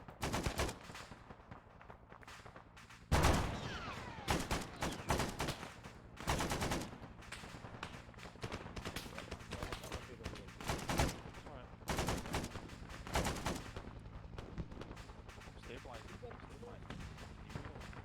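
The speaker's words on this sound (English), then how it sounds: "I hear shots east, Brasso." Gunfire in a military shooter game, frequent sharp bursts of rifle and machine-gun fire crackling at a distance, steady throughout, with players talking over it.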